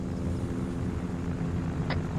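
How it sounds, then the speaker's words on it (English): An airplane drones overhead in the military video game Arma 3, a steady broadband engine rumble holding level throughout with no talking. "Plane, that's a plane."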